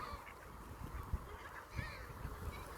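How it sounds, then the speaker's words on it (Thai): Geese and ducks honk and call faintly in the distance over a steady background rumble in Iceland, with a few dull thumps close by. "เป็ดห่านมันก็หิวนะฮะ"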